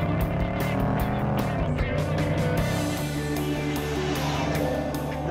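A Range Rover Sport SVR driven hard at high speed, its engine roaring steadily with shifting pitch and crackling bursts, loud and continuous with tire noise and no talk.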